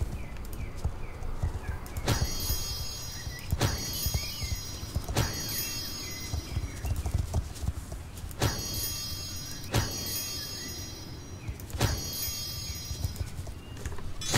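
Horse hooves clip-clopping in the online game Star Stable Online, soft repeated steps under a low ambient bed, punctuated by several sharp bright clicks at intervals of roughly one to three seconds.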